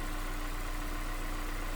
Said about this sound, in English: 2-liter dual overhead cam, VTEC engine, smooth runner.